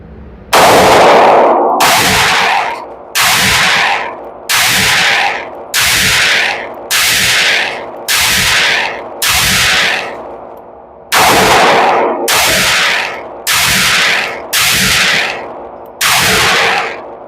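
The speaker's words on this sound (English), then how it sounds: "this bad boy hits nice, real nice. And for a compact package, the recoil is decent." A Sig Sauer P365 AXG Legion compact pistol firing at a range, loud sharp shots in a steady rhythm of about a dozen reports spaced roughly a second apart, with a brief pause partway through and no talking.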